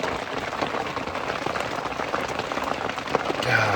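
Soft, steady patter of rain dripping and tapping on a surface nearby, continuous and fairly even, with no talking.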